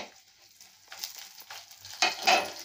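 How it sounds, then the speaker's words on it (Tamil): Whole spices—cinnamon sticks, cloves, dried red chillies and fennel seeds—hit hot oil in a pan and crackle, with short bursts of sizzle and a spoon stirring and scraping close by, growing louder toward the end. "இதை அப்படியே எண்ணெயில் போட்டுக்கலாங்க. நல்லா பொரிக்கிட்டுங்க."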